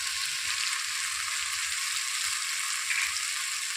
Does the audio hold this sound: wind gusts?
no